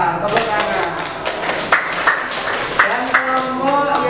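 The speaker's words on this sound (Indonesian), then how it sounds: "Tepuk tangan." A classroom group claps for the best-performing student team, sharp hand claps in an uneven cluster that stays close and moderately loud, with a few sharper taps standing out over a steady hum of the room.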